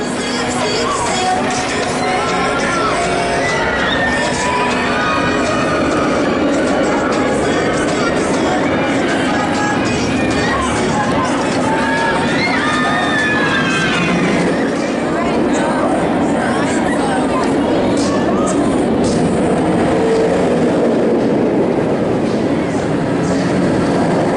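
A B&M inverted roller coaster at Hersheypark roars along its track with a constant loud rumble and rattling clatter, while riders' voices and shouts rise through the noise.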